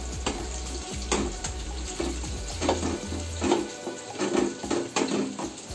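Onions, green chillies and garlic frying in a pan, giving a steady sizzle broken by scraping and stirring clatter close by, with no talk.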